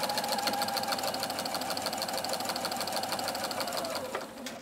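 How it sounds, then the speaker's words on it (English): A sewing machine fitted with a walking foot stitches through thick quilt binding, a rapid steady mechanical rattle running close and continuous before stopping near the end. "And now we're just going to sew along to the chalk line."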